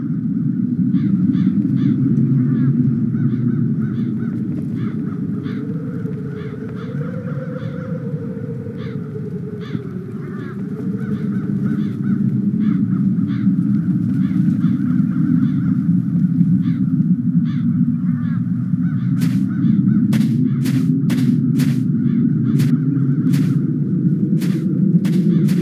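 Crows caw in the video game The Dark Eye: Chains of Satinav, repeated calls spread over a constant low ambient rumble, growing quicker and sharper toward the end.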